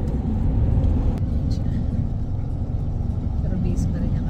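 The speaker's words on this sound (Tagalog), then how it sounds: "Pero busy pa rin yung kalsada na yan. Daming sasakyan papunta ng south." Busy rainy-afternoon road traffic heading south in Canada, a steady low rumble of cars passing, heard from nearby while people talk.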